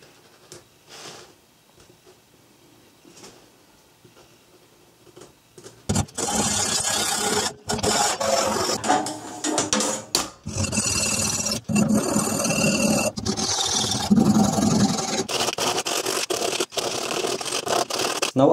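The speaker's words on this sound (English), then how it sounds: "And I will also cut a chamfer in the corners." Cutting a chamfer into the corners of a part for an M-Jet 35 jet engine build, loud harsh scraping and rasping bursts that start after a quiet opening and continue with brief gaps, close up.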